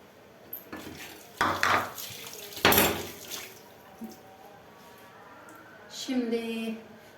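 Dishes, glasses and a teapot clattering and clinking as they are gathered, a few sharp bursts of ceramic and glass knocks with quiet gaps between them and a brief voice near the end.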